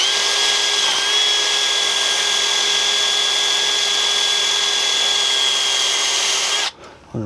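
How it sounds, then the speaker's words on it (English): Power drill fitted with a sanding pad scrubbing rust scale off the front brake hub of a 2008-2012 Chevrolet Silverado 1500, a steady high whine held close and loud for nearly seven seconds before cutting off abruptly. "I'm even going to take my drill here."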